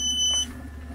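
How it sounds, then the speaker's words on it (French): A van heater in a VW T3 gives a short, steady electronic beep at the start once it reaches temperature, then cuts off, leaving a low hum in a quiet interior. "Le chauffage aussi, visiblement, puisqu'il vient de biper que ça y est, c'est bon."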